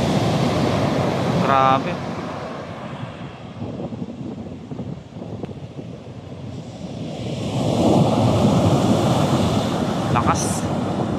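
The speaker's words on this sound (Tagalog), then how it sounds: "Yung mga alon na yun oh." Big ocean waves break and surge on a northern Luzon shore with heavy wind buffeting the microphone, swelling loud at the start and again near the end as a person speaks briefly.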